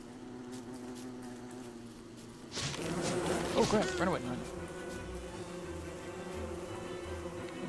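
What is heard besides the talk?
bees buzzing in the video game Don't Starve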